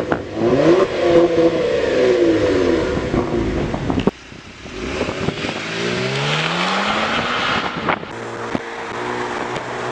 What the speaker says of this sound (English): let's go to the back and get a good exhaust clip.